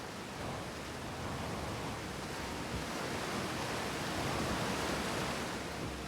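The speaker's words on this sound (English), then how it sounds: "Very loud waterfall." Loud waterfall in the space exploration game Outer Wilds: a dense, steady roar of rushing water filling the whole clip without pause.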